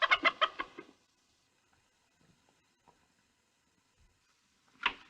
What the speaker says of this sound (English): I have a hen sitting under the bed, and he likes to peck at her